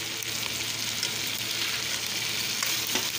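Chicken pieces frying with garlic ginger paste and salt in a pan, a loud, even hiss of sizzling oil with faint stirring, steady and close, with no talking.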